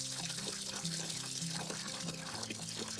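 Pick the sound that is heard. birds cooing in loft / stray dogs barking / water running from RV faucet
water running from RV faucet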